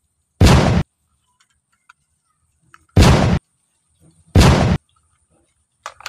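A toy pistol gives off three loud electronic bang effects, each a short harsh burst separated by pauses, with faint clicks and handling noises in between.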